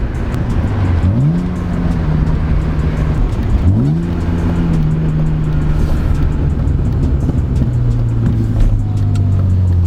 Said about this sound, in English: The sounds of the E36.